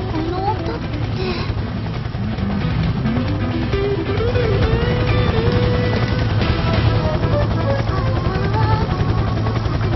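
A helicopter's steady low rotor rumble fills the background throughout while people talk over it, in the game Alternative Girls.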